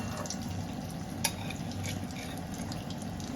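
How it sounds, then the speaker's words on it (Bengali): Chicken kebabs sizzle in hot oil in a steady, continuous fry with one brief sharp crackle, close and moderately quiet, with no voices. "আরো 3টে তেলে ছেড়ে দিলাম।"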